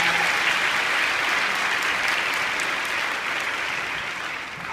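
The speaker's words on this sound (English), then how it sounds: "let's give them a round of applause for their great work" A congregation at Greater Allen A.M.E. Cathedral gives a dense, loud round of applause that holds steady and tapers slightly toward the end.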